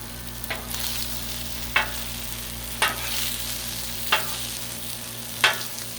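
Sausage frying on a Blackstone griddle, a steady close sizzle broken by five evenly spaced sharp spatula scrapes, with no talking.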